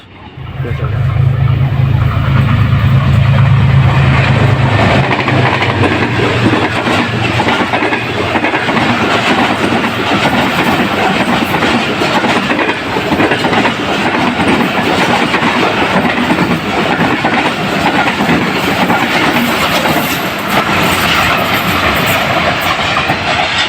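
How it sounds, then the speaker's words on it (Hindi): The Farid Express, led by a GU20 diesel locomotive, roars through a railway station at close range, with a heavy engine drone at first and then continuous loud clattering of wagons rolling past. "GU40 के छोटे भाई GU20 की लीड के साथ ये थी 37 ऑफ फरीद एक्सप्रेस।"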